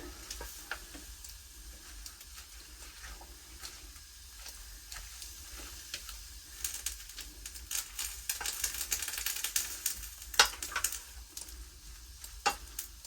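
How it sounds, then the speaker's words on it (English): An egg and leek mixture is stirred by hand in a pot on a wood stove, giving quiet, irregular scraping and soft ticking sizzle with a few sharper clicks toward the end. "I'm going to give it a good stir here"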